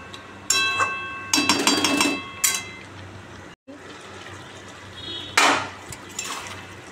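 A lid goes onto a pot of meat cooking in water in a home kitchen, with clattery metal clinks and knocks in short bursts, then a brief gap and a final scraping settle, close by.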